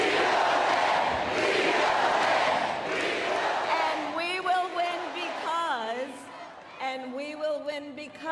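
A large crowd at a political rally in Philadelphia roars and cheers, swelling into loud whoops and shouts, with voices rising above the din toward the end.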